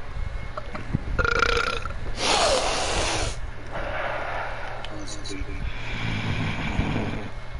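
One long, loud, drawn-out burp rumbles close to the microphone during a Fortnite gaming session, with casual voices and some background game noise around it.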